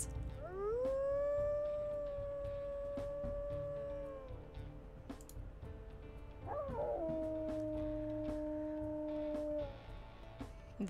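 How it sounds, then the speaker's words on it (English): Wolf howls from the WolfQuest video game rise and hold as long tonal wails, one sustained howl followed by a second sliding howl, over a steady low ambient game backdrop. "Let's hear those howls."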